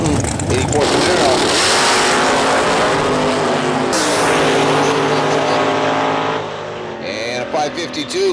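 A 1973 Nova and a 1984 Camaro race at a drag strip, their engines roaring loudly and close by. A sweeping pass and tire noise fill the run, and an announcer's voice sounds over them.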